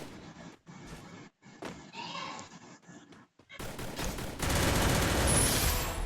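Rapid gunfire in a video game, heard as loud bursts of shots that start in short clusters and then become a dense sustained volley, with a voice briefly audible.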